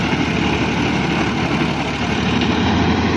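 A tractor engine runs steadily on a rain-soaked farm during silage making, a continuous low rumbling drone with no pauses or voices.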